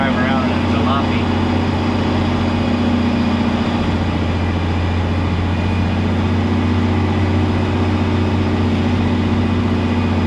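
A dump truck engine runs steadily at close range, a constant low rumble and drone with a loose shifter cover, continuous and loud throughout without any voices.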